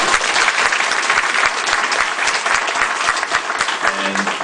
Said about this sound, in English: So a big hand of applause for Eduardo.